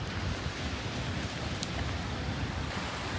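Steady, dense rain in Dubai hisses evenly throughout, a constant wash of falling water with no voices or breaks.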